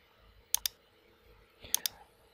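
Two quick double clicks of a computer mouse, close and fairly quiet, separated by about a second of near silence while working in Tekla Tedds engineering software.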